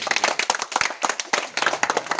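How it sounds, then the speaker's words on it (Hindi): Clapping from a small group in a classroom after a correct quiz answer, close and fairly quick, with uneven bursts of individual claps running throughout. "अफ्रीका सही, बिल्कुल सही है, ताली बजाओ"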